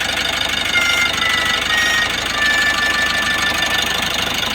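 A Mitsubishi L300 with a 4N14 Euro 4 diesel engine runs steadily, a continuous close mechanical drone with a faint knocking texture and no speech.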